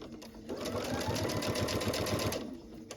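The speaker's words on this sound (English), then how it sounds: "now I'm going to stitch over the top of that so that you have a beautifully mitered corner" A sewing machine runs in a steady, fast buzzing burst of stitches for a couple of seconds, close and fairly loud, as it sews over a mitered fabric corner, starting and stopping cleanly.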